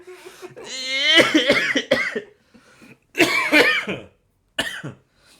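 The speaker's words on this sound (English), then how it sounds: "we've been coughing up a storm" A person coughs repeatedly nearby in hoarse, rough bursts, some strained and wheezy, with brief silences between the fits.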